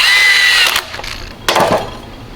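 Power tool snugging bolts on a Toyota 4Runner differential locker, heard as two short loud whirring bursts close up, the first a sustained buzz of under a second, the second a quick burst after a brief lull.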